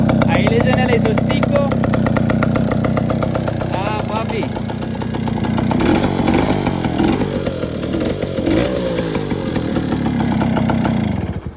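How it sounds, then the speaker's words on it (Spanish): A motorcycle engine idles and revs loudly with a rough, buzzing exhaust note, running steadily throughout and rising in a few throttle blips. "¿Cómo suena esa moto? Bastante chetada, ¿no? Bastante bonita. Ahí le suena el exhausto."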